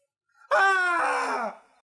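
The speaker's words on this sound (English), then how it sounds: "my voice cracked during the middle of that scream, so it just sounds awful" A recorded scream that cracks partway through, turning into a strained, wavering wail about one second long, loud and close with no talk over it.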